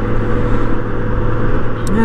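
Steady road roar fills the cabin as a car towing a trailer drives along the highway, a constant low rumble with a person talking over it.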